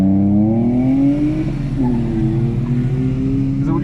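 Drift car driven fast around a track at an event, its engine droning loud and close with rising and falling pitch throughout, gears grinding between shifts.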